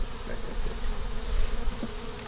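Steady, dense buzzing of honey bees close by, a continuous hum with no talking.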